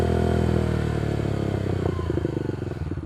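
A Yamaha YBR 125 motorcycle fitted with a Leo Vince exhaust revs up close and loud, its engine note rising steadily and breaking into a rapid throbbing pulse near the end.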